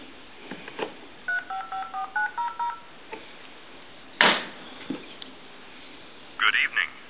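A tone generator dials a run of crisp DTMF beeps in quick succession into a Western Electric 250W wood wall telephone line, followed by clicks and a brief burst of line noise.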